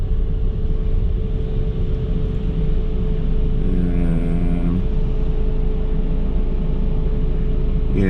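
A street sweeper on a wartime city road in Ukraine gives off a loud, steady mechanical whine and rumble with a constant tonal hum, and a short swell of rising and falling pitch partway through.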